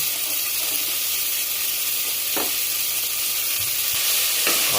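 Chopped onions sautéing in oil for a mutton curry, a dense, steady sizzle close by with a few spoon scrapes and taps against the pan, no talk.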